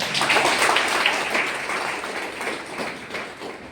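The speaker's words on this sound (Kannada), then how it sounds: "ಅವ್ರಿಗೊಂದು ಜೋರಾದ ಚಪ್ಪಾಳೆ" A crowd applauds a teacher with sustained, dense clapping at a competitive-exam training workshop at Bagalkot University, Jamkhandi; it stays loud throughout, tapering only slightly toward the end.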